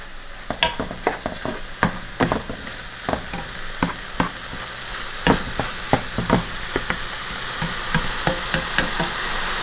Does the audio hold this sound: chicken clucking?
no